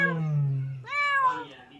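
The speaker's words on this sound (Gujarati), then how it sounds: "મ્યાઉ મ્યાઉ ના કર, બરાબર?" A cat meows twice in a home, with one long falling meow followed by a shorter, higher one, close and clear with no talk over it.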